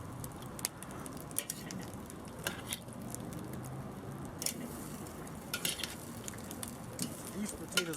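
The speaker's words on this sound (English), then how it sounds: "I'm cooking these directly over the coals" Red potatoes grilling directly over hot charcoal give a soft steady sizzle with scattered light taps and clinks of handling, fairly quiet and close, with no talking.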